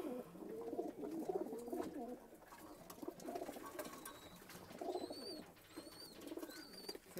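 Pigeons in a breeding loft coo in soft, repeated rolling calls throughout, moderately close, with a few thin higher chirps toward the end.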